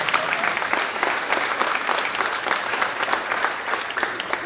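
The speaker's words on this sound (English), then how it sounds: "let's give Ryan Neely Insurance Group a round of applause" A reception audience at a school district Teacher of the Year event bursts into loud, sustained applause, many hands clapping evenly throughout without a break.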